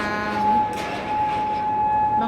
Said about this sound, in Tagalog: shop dahil sa tunog na naman ng sirena